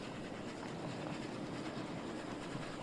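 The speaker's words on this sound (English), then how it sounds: "We'll go ahead and ride the train for the route as per the usual." A train ride in the Oddsparks video game gives a steady, even rolling rumble of rail travel, faint and continuous with no distinct clacks or voices.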